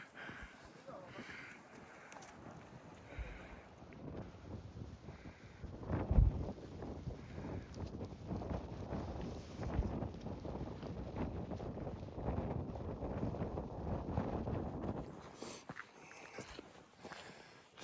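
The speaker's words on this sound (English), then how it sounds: "All the wind just pours right through there on you." Steady wind rushing through Partition Arch, a sandstone arch along the Devil's Garden primitive trail in Arches National Park, buffeting the microphone with broadband gusts that swell and hold through most of the stretch, loud and close.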